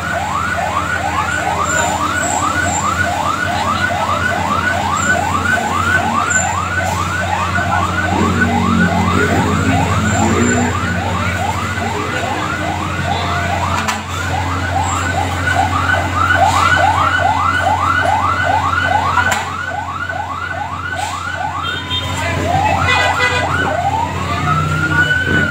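Fire truck sirens wail continuously at a fire in Caloocan City, a rapid repeating yelp cycling loudly and steadily close by over a low background rumble, with a second siren sweep near the end.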